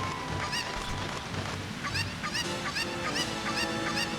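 Video game chicken squawking repeatedly in quick, rhythmic honking bursts over a dense, noisy background, loud and close.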